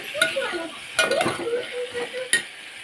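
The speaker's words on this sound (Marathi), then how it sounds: "चांगली तेलात फ्राय होऊ द्यायची" Okra and cluster beans fry in oil in a pan, with a steady sizzle under the clatter of a spoon stirring and scraping, plus a few sharp metallic clinks.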